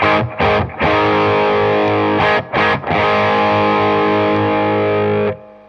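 Electric guitar played through a Marshall Blues Breaker overdrive pedal with the gain fully up: a loud, sustained distorted chord rings alone, cut by a few quick choked strums near the start and in the middle before fading out.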